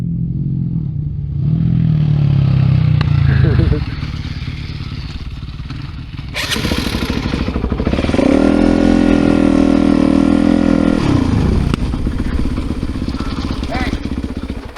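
Dirt motorcycles on a trail, including a prototype Kove Rally 450 EX, rumble loudly and close, with engines revving and surging before dropping back, then climbing again in sustained pulls.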